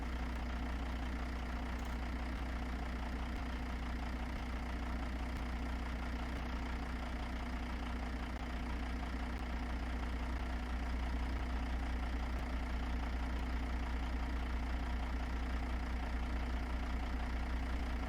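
Modded Caterpillar C-15 truck engine idling in American Truck Simulator, a steady low, even drone that holds unchanged throughout with no voices.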